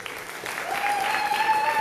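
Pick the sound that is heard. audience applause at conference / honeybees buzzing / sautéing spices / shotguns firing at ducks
audience applause at conference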